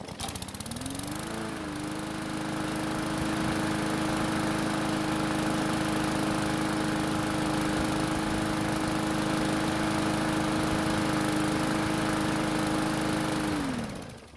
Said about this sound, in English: Let's try starting it again and see how it does.